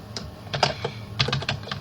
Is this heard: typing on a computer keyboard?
yes